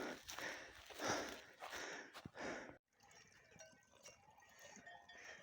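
Sheep or goats out on a mountainside, with shuffling hooves, rustling and scattered soft animal sounds, loudest in the first half and then quieter, thinner movement across the slope.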